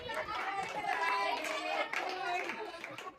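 Family members clap for a mother's birthday celebration after the cake is cut, a steady burst of hand claps mixed with children's voices and lively chatter close by.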